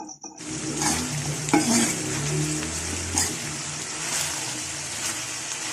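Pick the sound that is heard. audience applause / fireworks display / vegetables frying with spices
vegetables frying with spices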